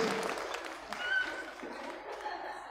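Audience applauding at the 38th anniversary celebration of an alternative education centre run by Radio San Gabriel; fairly quiet, steady clapping with voices mixed in throughout.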